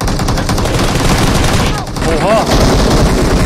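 Rapid automatic gunfire in PUBG Mobile, loud and dense bursts that run almost without a break, with a short exclamation from a player and a brief whizzing sweep partway through.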